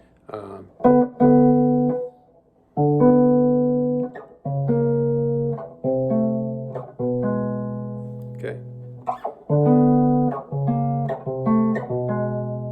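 Clean electric guitar notes played in short groups, walking down chromatically in pitch with brief pauses between phrases; a voice says a single word partway through.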